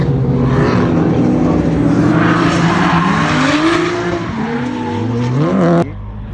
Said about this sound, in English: Man's upshifting in drift, just getting all the smoke.